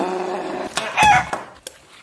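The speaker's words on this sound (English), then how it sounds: "A chicken?" A chicken clucks and squawks up close in a few short, loud bursts, with brief pauses between calls.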